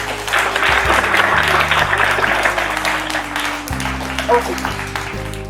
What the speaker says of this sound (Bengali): বাট একটা জোরে হাততালি হয়ে যায়।